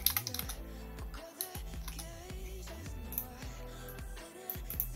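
Quiet, close computer keyboard typing as a line of text is entered, with quick irregular clicks and short pauses between bursts of keystrokes.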